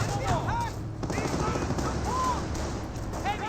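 MG42 machine gun in Company of Heroes, a World War II strategy game: a steady rattling stream of fire under constant battle noise, with whistling tones overhead and faint voices in the mix.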